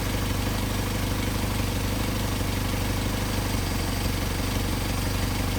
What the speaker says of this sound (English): you hear our engine faltering dramatically